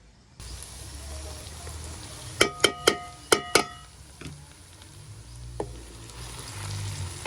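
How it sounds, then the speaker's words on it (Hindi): Okra (bhindi) fries in a pan in a village mud-house kitchen, a steady close sizzling hiss with a quick run of sharp metal utensil clicks against the pan partway through. "भिंडी माशाल्लाह से फ्राई हो गई थी"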